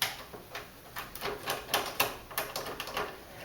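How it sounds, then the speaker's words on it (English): A quick run of small, sharp metallic ticks and clicks, faint and close, as screws holding a PC power supply are turned out of the rear of the case by hand. "Simply just unscrew them."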